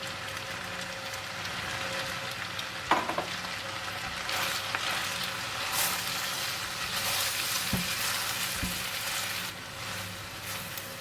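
Angel hair noodles with Chinese sausage and spring onions stir-frying in a pan, a steady close sizzle with scraping stirs and occasional sharp clicks of the utensil against the pan, no voices.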